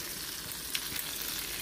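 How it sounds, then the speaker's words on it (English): Eggs fry in butter and grease in a pan, a steady close sizzle and crackle with faint spattering pops, no voices. "this spooning the grease or the butter onto the egg, it's considered a Spanish version of frying eggs"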